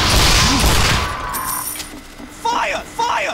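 A Team Fortress 2 sentry gun opens fire in a loud burst of rapid gunfire, then fades under game effects. Later come short sharp bursts, with a faint voice in the mix.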